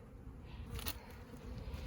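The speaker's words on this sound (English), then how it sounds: "The bees are working all the sugar feeders quite a bit more today." Honey bees buzz steadily around sugar feeders in a backyard apiary, a soft continuous hum with no voices.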